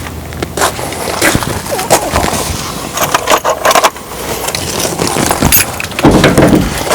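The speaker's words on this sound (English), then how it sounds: "I'm going to pop the trunk here for you guys." A 2019 Chevrolet Corvette ZR1 ZTK trunk pops open in a run of sharp clicks, clunks and rattles close by, with a louder thump and rustle near the end.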